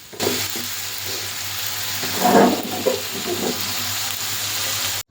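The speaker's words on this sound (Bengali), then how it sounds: "বারবার ঘুরিয়ে ঘুরিয়ে মাছগুলো ভেজে নিচ্ছি" Fish frying in a wok close by, a loud crackling sizzle with a swell of stirring and spattering midway before settling into a steady hiss.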